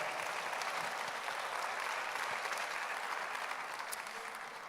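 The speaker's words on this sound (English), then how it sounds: "Will you clap your hands for all of the partners who were able to pull this off?" An audience at a Memphis mayoral forum applauds its event partners, a dense, steady wash of many hands clapping close and loud for nearly five seconds, tapering slightly at the end with no voices over it.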